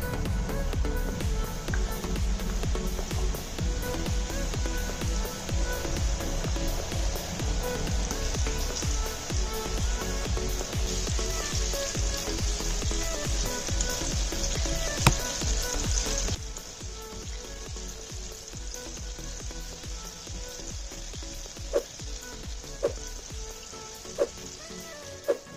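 Chicken thigh pieces frying in hot sunflower oil in a pan over medium-high heat, a dense steady crackling sizzle that drops noticeably quieter partway through, with a few scattered sharp pops near the end.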